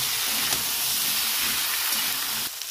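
Raw potatoes frying in a pan with salt and turmeric, giving a loud, steady close hiss and sizzle that drops off sharply near the end.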